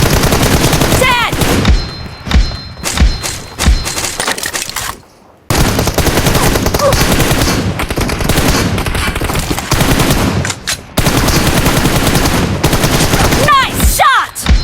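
Rapid automatic gunfire in the battle royale game PUBG, loud close bursts of shots repeating in dense runs with a brief pause partway through, while voice callouts break in between the volleys.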